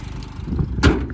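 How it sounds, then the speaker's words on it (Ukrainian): Nissan Qashqai J10 2.0 diesel (110 kW, automatic, 4WD) running with a low, steady rumble, then a brief louder knock-like burst near the end, with no talk. "Двигунчик працює ідеально."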